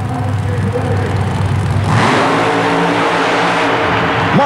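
A super modified mud racing car at a 1991 event in Worcester, Massachusetts roars loudly and close, its engine tone shifting abruptly partway through as it keeps up a heavy, steady drone.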